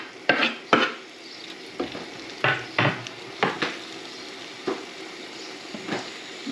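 Onion frying in a pan for a tomato and egg sauté, with a soft steady sizzle under repeated sharp scrapes and clinks of a utensil stirring against the pan, roughly one stroke every half second to second.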